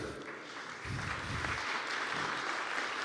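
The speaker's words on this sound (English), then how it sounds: "So a big round of applause for them." A crowd at a 2019 provincial election all-candidates forum in Calgary Northwest applauds in a continuous, even wash of clapping that fills the hall from start to finish.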